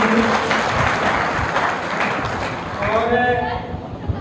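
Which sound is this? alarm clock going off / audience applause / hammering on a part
audience applause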